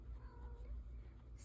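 A house cat lets out a faint, drawn-out meow against a low background rumble during a knitting session, quiet and brief, with no talk over it.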